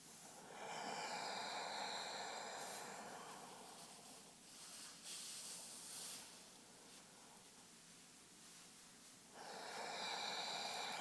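Slow, deep breathing during a yoga session, long steady airy inhales and exhales rolling in and out several times, close and breathy but quiet, with no talking.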